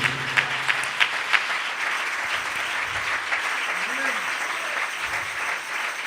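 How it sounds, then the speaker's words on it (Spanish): A church congregation claps in sustained applause during a convention worship service, a dense, even wash of clapping with a few sharper claps early on. "Por favor, denle un aplauso a Jesucristo."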